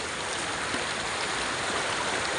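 River water rushes in a steady, dense roar near a trek spot with a waterfall, loud and unbroken throughout, with no voices.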